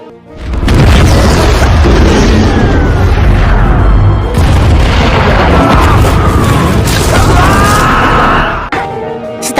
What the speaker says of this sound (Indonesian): hingga akhirnya terjadilah ledakan super dahsyat